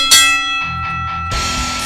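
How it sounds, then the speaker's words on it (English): A hand bell rung once at the end of a wrestling recap show, a sharp bright clang that rings on and fades, followed by further noise. "on that note, I'm gonna ring this fucking bell"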